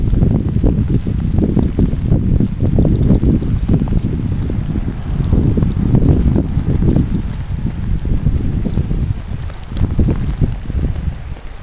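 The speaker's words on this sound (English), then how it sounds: "Is it me or is the rain getting heavier?" Heavy rain falls outdoors as a loud, continuous hiss with a low, gusty rumble like wind on the microphone, steady for the whole stretch with no talk.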